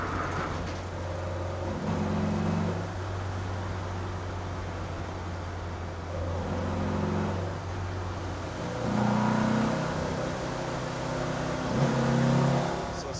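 A car engine fed by dual Weber 40 IDF carburetors idles, then is blipped on the throttle several times. The revs rise and fall in short bursts over a steady engine drone, with no one speaking.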